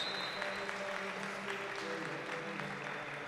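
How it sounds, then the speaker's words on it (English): Crowd applause at a men's basketball game against Limestone as an injured player gets to his feet, a moderate, steady round of clapping spread through the arena. "And Michael getting to his feet, and a nice round of applause."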